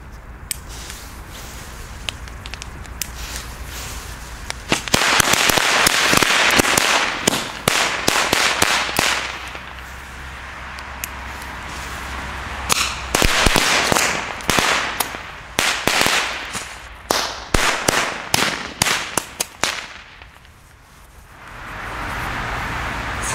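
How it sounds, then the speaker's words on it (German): Funke C Knallfrösche jumping firecrackers go off in long, irregular chains of sharp bangs and crackles, loud and close, with brief pauses between bursts and no talking. "Jetzt die Funke C Knallfrösche."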